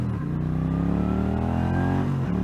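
A 1981 Honda GL500 Silverwing Interstate motorcycle accelerates at about half throttle, its engine note rising steadily in a loud, close, continuous drone with brief dips at gear changes.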